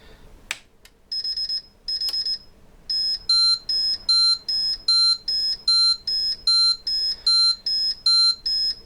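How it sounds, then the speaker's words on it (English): Electronic beeping from an EV battery charger, close and clear: a few spaced beeps, then a steady run of evenly timed high-pitched beeps, with a small click near the start. "some beeper to go beeping"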